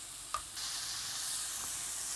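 Meat browns in a hot pan on every side for an autumn stew with juniper, mushrooms and lingonberries, giving off a soft, steady sizzle. A brief clink of tongs sounds early on, and no one speaks.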